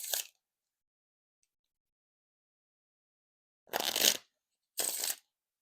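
Exotic v2 Dragon Fruit playing cards are shuffled close by in three short crisp riffles: one at the start, then two more after a long silence.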